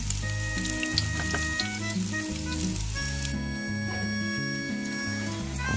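Gola kebabs fry in a pan with a steady, close sizzle and occasional crackles, a continuous bed of frying noise with faint background hum and no talk.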